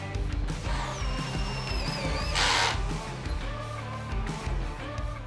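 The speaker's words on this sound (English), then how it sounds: "You can then insert self-drilling screws here." A power drill drives self-drilling screws into the guide profile of a glass sliding door, with a short rising whine and a bright burst of grinding as a screw bites in, surrounded by clatter and handling noise.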